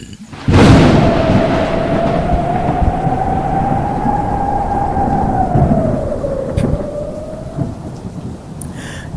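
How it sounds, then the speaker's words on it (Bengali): A storm effect opens with a sudden loud thunderclap, followed by a sustained roar of rain and gusty wind carrying a whistling tone that rises and then fades over several seconds. "বিদ্যুৎ সহ ঝোড়ো হাওয়া বইতে শুরু করলেন"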